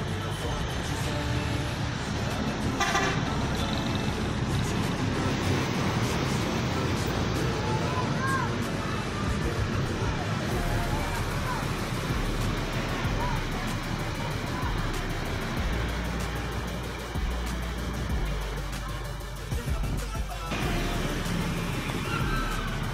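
Departure of a PT Pelangi intercity bus: a deep diesel engine rumble swelling and pulling away amid roadside traffic noise, with a voice talking over it throughout.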